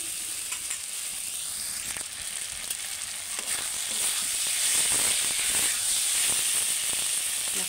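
Spiced masala and fried vegetables for a pointed gourd curry sizzle hard in a pan, the hiss swelling louder as water is poured in, with faint stirring scrapes, close up.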